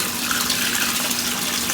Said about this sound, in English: to make it into a real fine sheet of water that's going in